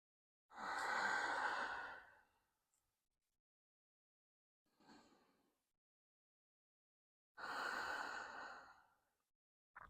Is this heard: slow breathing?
yes